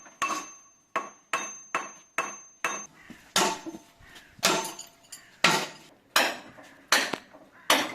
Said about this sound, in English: we had to secure them additionally with nails